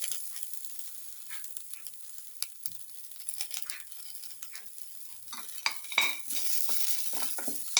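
Ginger sizzling in a hot pan for a papaya yogurt stew while a utensil stirs and scrapes against the metal, close up, with continuous frying hiss and irregular clinks throughout and no voices.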